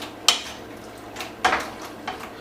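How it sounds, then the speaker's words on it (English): A spoon stirs chicken asopao in a pot, giving a few sharp clinks and scrapes against the metal at irregular intervals, close and fairly quiet, with no one speaking. "we're gonna give this a nice stir again"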